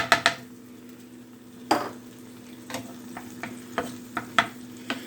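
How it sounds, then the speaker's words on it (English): Nacho filling sautéing in a pan, a faint sizzle under irregular scrapes and knocks of a utensil against the pan, close and quiet, no voices. "kind of saute this to give it a little bit of a texture."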